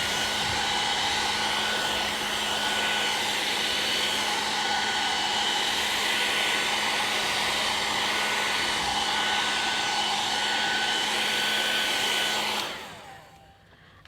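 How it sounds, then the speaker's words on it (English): Heat tool blasting hot air over alcohol inks in art journaling, a loud steady whooshing hum that runs continuously, then cuts off and winds down near the end. "And I'll just give it a bit of a heat blast again."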